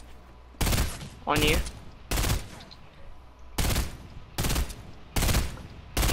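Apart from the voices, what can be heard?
gunfire in a video game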